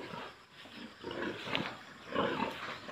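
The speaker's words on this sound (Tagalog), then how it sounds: "Ito yung mga inahin namin." Sows grunt in low, rough bursts, several overlapping close by, rising and falling in a loose rhythm.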